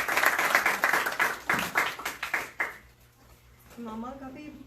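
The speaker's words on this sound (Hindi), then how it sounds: "जोरदार तालियां यीशु मसीह के लिए" A church congregation applauds for Jesus Christ during a sermon, with several seconds of bursty clapping that fades out before a preacher resumes speaking.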